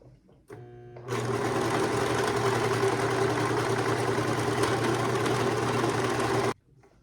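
A serger sewing machine stitches and trims a fabric edge, starting with a brief whir and then running in one loud, steady, continuous drone for several seconds before stopping abruptly.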